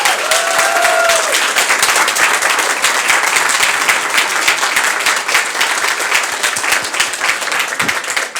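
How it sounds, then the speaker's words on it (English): Audience applause at a public library budget address fills the room, dense and sustained clapping from a large crowd, steady and loud throughout with no voices over it. "Can you give one more round of applause for all 3 of them?"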